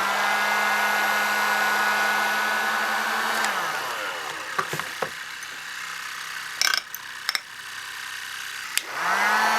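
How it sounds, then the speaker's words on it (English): A heat gun blows loudly while warming a fishing lure before it is dipped in powder paint, a steady whirring roar that winds down, falls quiet amid small handling clicks, then spins back up at the end. "before I dip this in there, I'm going to go ahead and heat it up with a heat gun"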